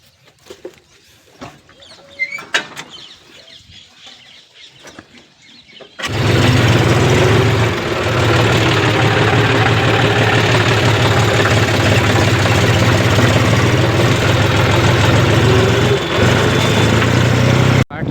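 A tractor engine suddenly roars into a loud, steady, rumbling run after a stretch of quieter outdoor ambience, then holds a constant drone to the end.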